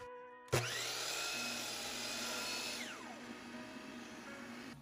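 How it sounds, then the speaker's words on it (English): A table saw cuts through wood on a crosscut sled during a test cut: a sharp start, then a loud steady high whine with the blade grinding through the board, the pitch dropping partway as the cut finishes and the motor keeps running. "So I'll make a test cut and make sure that it works."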